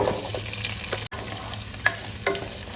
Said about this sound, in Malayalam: ഇതിലേക്ക് നമുക്ക് ഉള്ളി ഒന്ന് ഇട്ട് വഴറ്റാം.